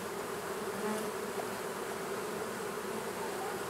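Honey bees at a beehive fitted with a honey super and escape board, a dense continuous buzzing hum from many insects close by, steady and unbroken.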